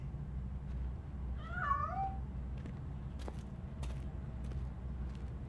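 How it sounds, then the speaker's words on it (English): A cat in the video game RoboCop: Rogue City gives a single clear, drawn-out meow, then a few faint clicks and knocks over a low steady hum. "That cat must be hiding inside."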